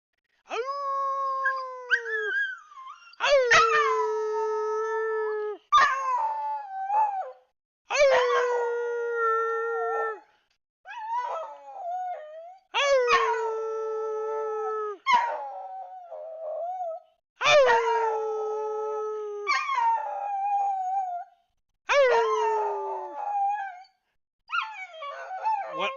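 Cassie, a pet hunting dog, howls again and again in long, wavering, drawn-out notes, each sliding in pitch, close and loud, with short pauses between bursts and no talking.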